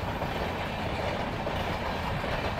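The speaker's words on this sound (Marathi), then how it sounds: "ट्रेनच्या क्रॉसिंगसाठी लागलेलं ट्रॅफिक आहे." A train rumbles past a railway crossing on the Mumbai–Goa route, a loud, steady, dense roar of wheels on track with faint clattering throughout and no voices.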